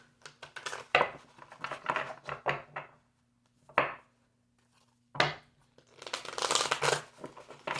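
Tarot cards are shuffled in quick bursts of soft slapping riffles, separated by short pauses of near silence.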